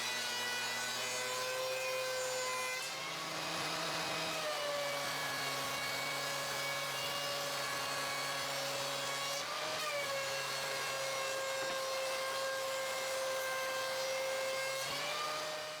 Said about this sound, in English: On the planer, I just get them resurfaced, which will help the glue or even make it possible.